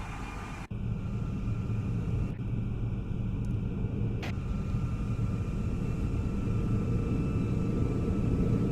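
A steady, loud jet engine rumble from an Airbus flyby in the Prepar3D flight simulator, continuous, with a few sharp clicks near the start and no talking.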